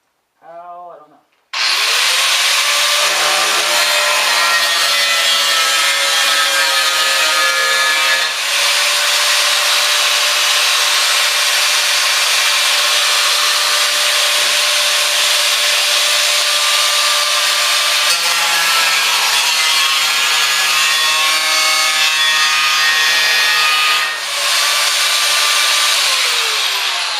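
An angle grinder cuts open a metal oil drum, a loud, sustained high-pitched whine that starts abruptly after a short noise and holds close and steady for over twenty seconds with slight changes in pitch.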